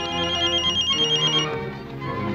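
A telephone rings indoors, a bright electronic ringtone trilling for a second and a half before fading into a quiet room.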